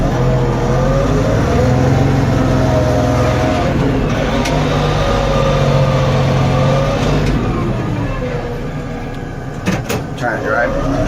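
An LS XR4145C tractor loader engine drones steadily while being driven, a loud close diesel hum with shifting tones, a voice talking over it and a few clanks near the end.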